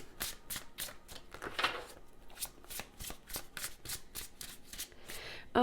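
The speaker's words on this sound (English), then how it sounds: "Let's pull a couple of more cards." Tarot cards being shuffled and pulled from the deck, giving a rapid series of close, crisp riffling flicks and slaps in an irregular rhythm, fairly quiet and with no talking.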